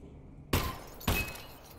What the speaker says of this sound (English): Hey, could you please break the glass?